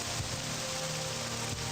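Steady rain pattering in the video game Morrowind, a constant soft hiss with no voices over it.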